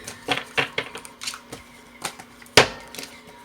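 A deck of tarot cards is shuffled by hand during a zodiac reading: a run of crisp, irregular clicks and flutters close up, ending in one sharper snap, with no talking.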